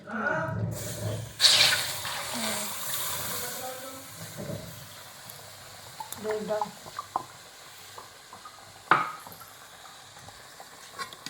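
Milk poured into lightly roasted semolina in a pan, then stirred, giving a brief sizzle and a soft, uneven scraping with occasional clinks, under quiet background sounds.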